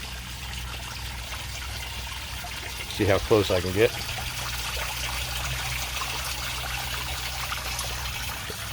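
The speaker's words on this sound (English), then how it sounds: "You can see where the water is trickling down off of here." Steady trickling water runs down off boulders throughout, at Ringing Rocks Park, with a person speaking briefly in the middle over the flow.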